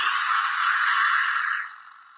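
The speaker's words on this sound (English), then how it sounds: "That's the sound of his weapon going off." Dalek gun firing in a Doctor Who sound effect: a single harsh, hissing electronic burst, loud and steady, that fades away in its last half second, with no voices.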